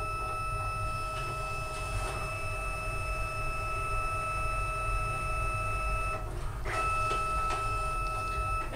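A direct-to-card ID badge printer runs a roller cleaning cycle, giving a steady close mechanical hum with faint tonal whine and occasional soft clicks and ticks throughout, with no talking.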